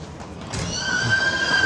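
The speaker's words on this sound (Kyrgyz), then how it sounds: "Кеминде деле жылкы өтө көп." Horses neigh at a busy livestock market, one loud whinny rising over background crowd noise and a faint high tone, heard close by.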